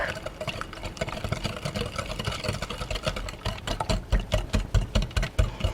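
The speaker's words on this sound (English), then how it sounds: "we're done whisking." Milk being whisked into chocolate crinkle cookie batter in a bowl: quick rhythmic strokes that grow louder and sharper toward the end, heard alone without talk.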